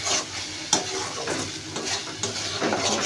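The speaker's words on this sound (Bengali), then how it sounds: "ভালো করে নাড়াচাড়া করে রাখতে হবে।" A spoon scrapes and stirs fish masala with turmeric and salt in a sizzling pan for a tangra fish curry, with repeated close scraping strokes over a steady fry hiss.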